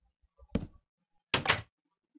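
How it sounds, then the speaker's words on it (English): Wooden doors swinging open in the Minecraft video game: two short, separate thuds, one soft and one louder and fuller, with quiet gaps around them and nothing else heard. "Need to open both doors."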